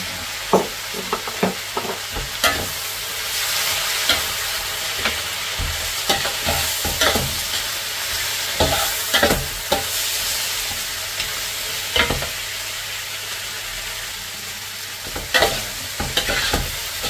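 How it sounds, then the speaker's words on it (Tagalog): A dish frying with fish sauce (patis) being stirred, with a steady sizzle underneath and repeated scraping strokes of a spoon against the pan at irregular intervals, close up with no talking. "Natin lang haluin na buti hanggang sa lumaso yung patis sa ating luto."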